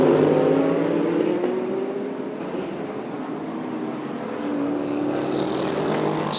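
GT race cars at the Estoril circuit in Portugal drone steadily past with rising and falling engine tones, loud and continuous, with no talk over them.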